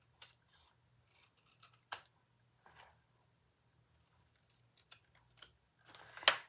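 Scissors trimming a leather wallet piece, faint sparse snips and rustles in a quiet room, with a louder cut near the end.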